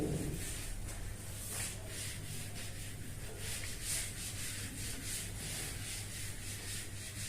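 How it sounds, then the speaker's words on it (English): A steady, continuous scrubbing rasp of an eraser rubbing back and forth across paper, close and even in level throughout with no voices. "Let's rub this."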